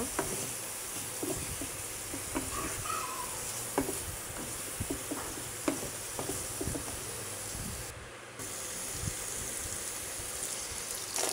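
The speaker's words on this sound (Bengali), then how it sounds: "লবণ দিয়ে আবারও একটু নেড়ে চেড়ে নেব।" Hilsa fish curry being stirred with salt in a pan, scattered scrapes and taps of a spoon over a quiet sizzling hiss, close and fairly faint with no talk.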